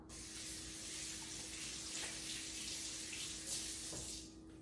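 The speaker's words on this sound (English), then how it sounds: "And let me rinse my hands off." Hands rinsed under a running kitchen tap while baking sourdough cinnamon rolls, a steady hissing stream of water lasting several seconds with faint splashes, no talking.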